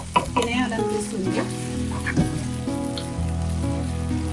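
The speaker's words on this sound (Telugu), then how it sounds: "కొంచెం ఇట్లా ఆయిల్లో ఇంకా వేగాలి, బాగా వేగాలి ఆయిల్లో." Methi chicken frying in hot oil, giving a steady, close sizzle throughout with a few stirring clatters near the start.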